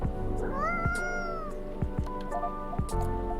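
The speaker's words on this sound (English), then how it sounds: "Do you have a new pet cat then?" A cat in the game Coffee Talk 2 gives a drawn-out, rising meow, loud and close, followed by a few soft thumps and small sounds over quiet background music.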